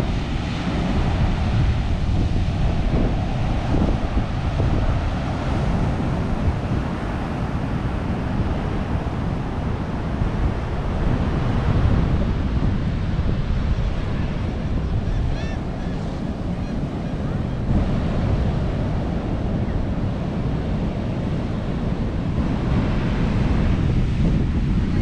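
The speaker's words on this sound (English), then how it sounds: "Big waves forming out past the point of the Four Seasons" Strong wind buffets the microphone over steady crashing ocean surf at a public beach in Orange Beach, Alabama, ahead of Hurricane Sally, a continuous loud roar with no pauses.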